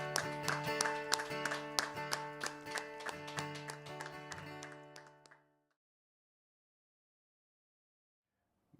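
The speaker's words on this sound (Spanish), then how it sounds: "Te aplaudimos, Señor, en agradecimiento." A church congregation claps in steady rhythm over sustained music for about five seconds, then the clapping and music stop together and silence follows.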